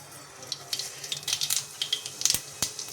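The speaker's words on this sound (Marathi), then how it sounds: "हां, तेल छान कडलेलं आहे आपलं." Oil heating in a pan for a Marathi pitla-bhakri offering meal, a test bit dropped in so it crackles and spits in short, crisp bursts with a few sharper pops, fairly close and without talk.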